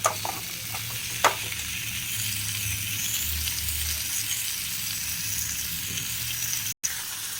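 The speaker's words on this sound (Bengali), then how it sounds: "এবার হালকা করে পটেটো একটু ফ্রাই করব" Potatoes lightly frying in a pan for a vegetarian potol curry give a soft, steady sizzle, with an occasional clink of a utensil and a brief cut near the end.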